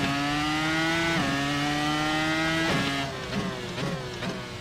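NASCAR stock car engines in the iRacing simulator, a loud, steady V8 drone with gear shifts and a second car passing close, the pitch dropping and rising as revs change.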